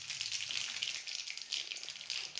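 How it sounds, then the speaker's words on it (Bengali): Whole cumin seeds frying in hot oil give off a steady, dense crackling sizzle that runs unbroken throughout. It sounds close and fairly loud, and no one speaks. "তেলের মধ্যে এবার আমি দিয়ে দেবো এই যে গোটা জিরে"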